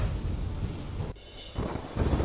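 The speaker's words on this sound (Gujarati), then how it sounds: "પોરબંદર જિલ્લામાં વીજળીના કડાકા સાથે વરસાદ" Thunder rumbles amid steady rainfall during a storm in Porbandar district, Gujarat, a dense broadband wash broken by a short dip before the roar resumes.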